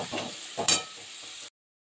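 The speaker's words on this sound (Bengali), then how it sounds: "পেঁয়াজ রসুনটা একসঙ্গে সুন্দর করে ভাজা হোক" Onion and garlic paste frying in a hot pan for a Bengali kham alu (big yam) dish, a close steady sizzle with a few louder bursts of hiss as it is stirred, ending abruptly.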